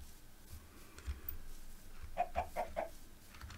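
A chicken in Minecraft Survival 1.19.4 gives a quick run of four clucks, close and clear, after a quiet stretch with faint background noise.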